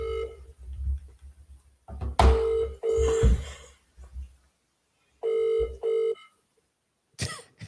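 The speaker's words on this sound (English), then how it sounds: "let me phone Gary first and see what I got" Telephone ringing during a phone call, repeated electronic ring tones in short pulses with gaps, mixed with coughing and faint background rumble.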